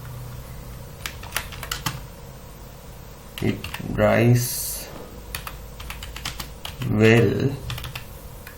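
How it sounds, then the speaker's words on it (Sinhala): Typing on a computer keyboard: scattered sharp key clicks in an uneven rhythm, close and fairly quiet, with people talking over parts of it. "ඊට පස්සේ අපි තව එකක් විදිහට යට තියෙන පේලිය ටයිප් කරගමු"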